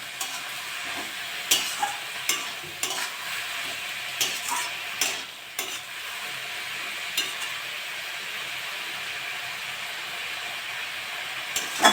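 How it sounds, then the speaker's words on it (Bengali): Red amaranth greens seasoned with turmeric and salt frying in a pan, a steady close hiss of sizzling oil punctuated by intermittent clicks and scrapes of stirring, mostly in the first half, with no talking. "শাকটা একটু ভাজা ভাজা করবো।"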